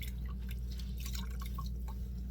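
Wet, freshly dyed clothes drip water into a sink, small scattered drops tapping faintly over a steady low hum, with no talking.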